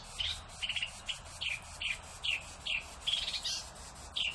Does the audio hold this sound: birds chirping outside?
yes